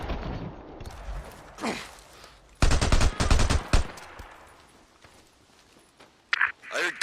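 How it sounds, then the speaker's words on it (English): Gunshots and bursts of machine gun fire ring out in the video game Days Gone, with loud rapid volleys in the middle and scattered single shots around them, mixed with footsteps and spoken game dialogue. "I heard gunshots."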